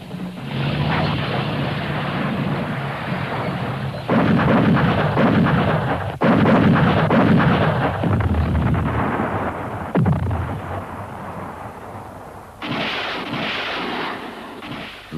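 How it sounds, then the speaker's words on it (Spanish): Artillery barrage during the Vietnam War, heavy booming blasts and rumbling detonations that come in loud, dense waves over a sustained low roar, with no voices. "La barrera de artillería inicial fue suficiente para acabar con la resistencia."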